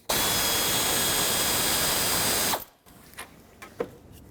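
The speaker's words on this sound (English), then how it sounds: "I'm going to take out this 8mm bolt so I can kind of maneuver the shroud out of the way" Power tool whirs loudly and steadily for about two and a half seconds while backing out an 8mm bolt on the fan shroud of a 2008-2010 Ford F-250 with the 6.4L diesel, then cuts off, followed by a few faint clicks and taps.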